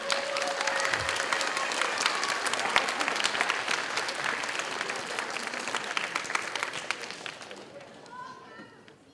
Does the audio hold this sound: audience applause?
yes